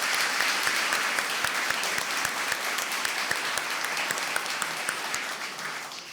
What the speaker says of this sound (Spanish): Vamos a darle un aplauso a esa jovencita.